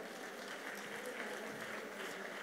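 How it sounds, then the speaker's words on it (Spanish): Faint, steady applause from a distant audience welcoming a speaker at a Campus Party event, an even hiss of many hands clapping with no clear individual claps. "un aplauso inicial para Michael"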